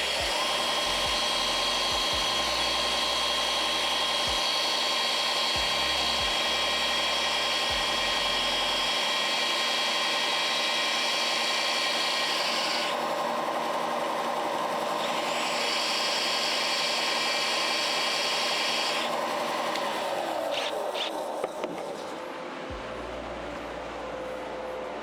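Loud, steady high-pitched whine of a bench grinder sharpening a TIG welding tungsten, running continuously for about twenty seconds with brief dips in pitch before winding down near the end.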